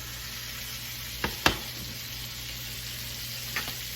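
Lobster frying in a pan for lobster ravioli, a steady soft sizzle throughout with a couple of brief clinks and scrapes as the pieces are lifted and turned.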